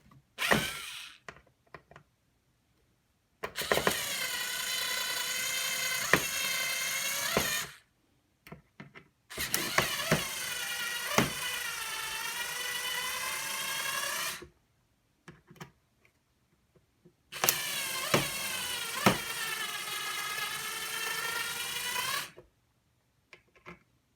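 Screws on a COBRA 18M CB radio module case are loosened with a screwdriver, giving three long, steady bursts of mechanical ratcheting and creaking, each lasting several seconds and separated by short pauses, close up with no talk.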